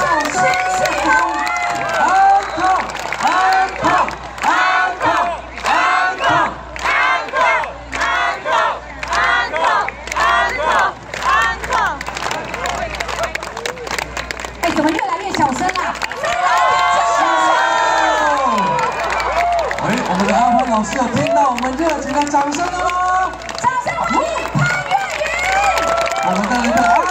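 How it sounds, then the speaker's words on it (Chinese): Festival crowd at a 2018 Dalikuei concert screams and cheers for an encore, loud sustained shrieks and whoops over rhythmic clapping, building into a continuous roar of voices. "给热情的尖叫声 响彻"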